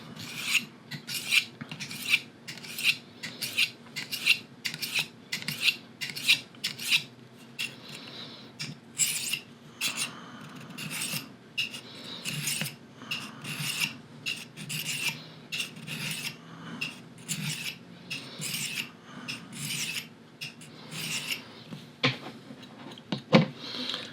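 A knife blade is drawn repeatedly across the 25-degree ceramic rod of a Work Sharp Folding Field Sharpener, giving a steady series of close, dry rasping strokes with short pauses between them and no talking.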